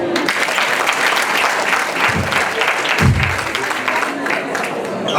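Audience applause at a tribute gathering in Paris, a dense steady wash of many hands clapping throughout with a faint voice or two rising briefly underneath.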